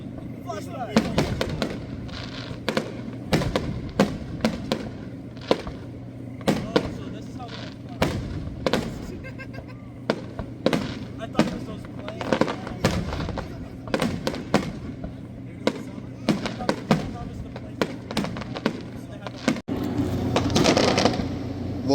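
Fireworks burst in a rapid string of sharp cracks and booms, some near and loud, others farther off, repeating irregularly through a nighttime celebration while people talk and call out in between.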